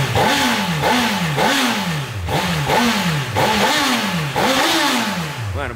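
A new motorcycle revving hard on a ride through the street, engine pitch climbing and dropping in about eight repeated rising sweeps, loud and close with a rough clattering edge.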